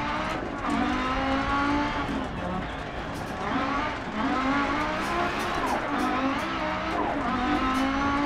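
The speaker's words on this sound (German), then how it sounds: "Fünf Zylinder, riesiger Turbolader, 600 PS und den Turbolader hören wir die ganze Zeit auch arbeiten übrigens." Audi S1 Quattro rally car with a five-cylinder turbo engine, 600 hp, in Dirt Rally on Pikes Peak, revving hard through gear changes with a constant turbo whine and tire noise, loud and continuous beneath someone talking.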